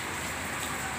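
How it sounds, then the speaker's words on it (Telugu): Rain falls steadily, a continuous soft hiss of drops filling the whole short stretch with no voices or other sounds. "ఇక్కడ మాత్రం వాన వర్షిస్తుంది."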